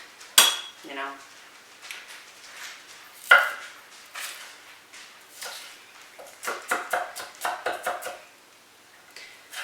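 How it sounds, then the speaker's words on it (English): Knife slowly chopping an onion on a board in a home kitchen while making mushroom stroganoff, with irregular close taps and clinks scattered through the clip, no talk. "I've never cut an onion this slow in my life."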